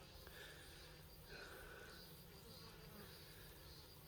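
A steady, dense buzzing of many honeybees fills the whole stretch, close and continuous, with no talk over it.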